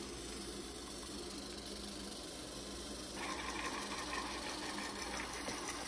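NEMA 17 closed-loop stepper motors drive linear actuators, giving a steady buzzing whine that rises into a brighter, higher-pitched tone partway through as the step speed changes, with no talk.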